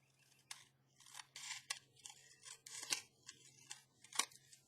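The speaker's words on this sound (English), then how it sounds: "Then we want to cut some off the top" Scissors cutting paper, a series of close, crisp snips in an uneven rhythm, each a short sharp crunch with pauses between.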